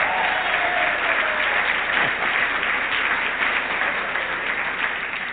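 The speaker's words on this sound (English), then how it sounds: "Well, go ahead and clap then." An audience in a lecture-hall setting breaks into sustained applause, dense clapping holding steady and then tapering slightly toward the end.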